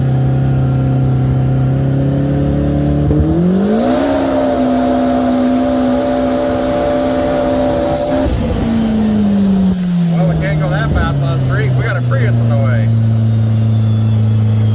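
Polaris RZR Turbo Pro R engine revving hard, a close, loud idle that climbs into a sustained high rev, drops back, then blips again with crackles before settling to a steady idle.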